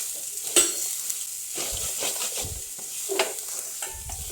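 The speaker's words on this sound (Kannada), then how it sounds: "ಹಾಕಿ ಇದನ್ನು ಸಣ್ಣ ಉರಿಯಲ್ಲಿ ತೆಂಗಿನ ತುರಿ ಉಂಟಲ್ಲ ಕೆಂಪಾಗುವವರೆಗೆ ಇದನ್ನು ಫ್ರೈ ಮಾಡಿಕೊಳ್ಬೇಕು ಚೆನ್ನಾಗಿ." Grated coconut with turmeric powder fries on low heat in a pan, a soft continuous sizzle broken by several scraping stirs of a spoon, close and fairly quiet with no talk.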